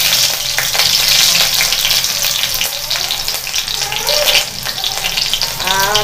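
Cumin seeds, mustard seeds and green chillies fry in hot refined oil, a lively close sizzle with crackles and pops, plus occasional stirring scrapes; no one speaks over it.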